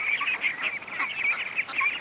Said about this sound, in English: there's a bunch of ducks coming back from the creek